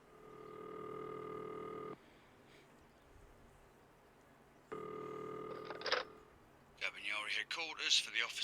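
Telephone tones in a video game set in San Casciano as a number is dialed to the Carabinieri: two long steady ringback tones, a short burst of dialing beeps, then a voice answering on the line.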